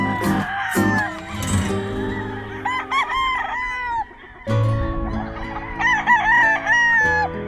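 A gamefowl stag, a sweater roundhead, crows repeatedly on a morning farm, loud and close, with other rooster crows and clucking mixed in around it.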